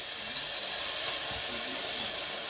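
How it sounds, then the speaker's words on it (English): Minced garlic hitting a hot pan while cooking a noodle bowl, giving a steady, close broadband hiss of sizzling that holds evenly throughout with no talking. "I have a little minced garlic here that I'm just going to put in there."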